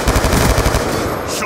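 Rapid automatic gunfire in the video game Black Ops 2 rattles out as one dense, loud, continuous burst.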